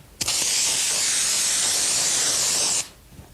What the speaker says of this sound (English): A bit like this spray string.